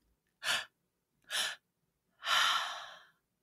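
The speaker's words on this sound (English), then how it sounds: "it involves a 3-part breath done through an open mouth" Breathwork demonstration of a three-part breath: two short, sharp inhales followed by a longer open-mouth exhale that trails off, close and clear with no talking.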